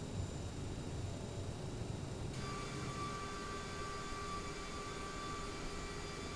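CRJ550ER jet engines taxiing in Microsoft Flight Simulator 2020, heard from an outside view: a steady broadband roar with high whining tones that climb and brighten partway through, continuous and fairly even.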